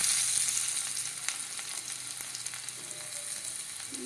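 Crushed garlic sautéing in hot oil in a pan while cooking Andhra-style moong dal rasam, a steady close sizzle and crackle with a few small spatula taps, no voices.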